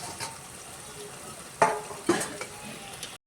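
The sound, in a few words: water added to fried eggplant sizzling in pan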